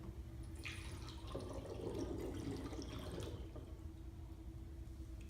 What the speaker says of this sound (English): Okay, so in this cup, there's juice. So I'm gonna pour it in this one.